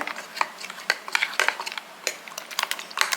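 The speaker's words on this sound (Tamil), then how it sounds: "என்னட்ட இல்லை ஸ்பூன் போட்டு கலக்கிறேன் பாருங்கள்" Rapid irregular clinks and scrapes of a spoon stirring batter in a bowl, close and fairly quiet, with no one talking.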